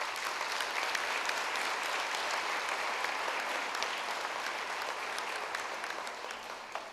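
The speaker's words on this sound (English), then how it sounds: "Give yourselves a round of applause." Steady, even applause from a large crowd at a school district convocation, a soft wash of many clapping hands heard from a distance that slowly tapers off.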